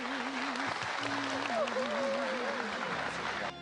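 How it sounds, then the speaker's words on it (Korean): An audience claps in a church, a steady wash of applause under a background voice with a wavering tone. "여러분 박수 보내주십시오"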